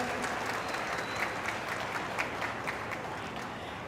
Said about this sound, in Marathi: टाळ्यांचा कडकडाट करूया, या सर्वांच्या प्रती आपण आदर व्यक्त करूया.